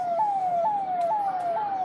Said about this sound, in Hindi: ये सायरन इस बात को उल्लिखित कर रहा है।